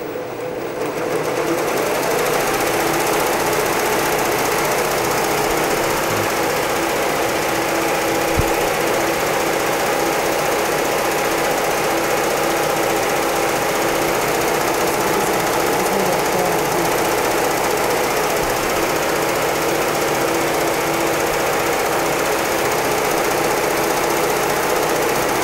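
A six-head embroidery machine runs steadily and loudly for the whole stretch, a dense mechanical rattling hum with rapid needle knocking and no pauses or talk.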